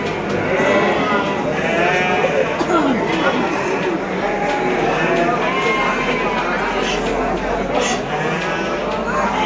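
Garut sheep bleating repeatedly at a busy livestock market, loud overlapping bleats close by over constant crowd chatter and people talking.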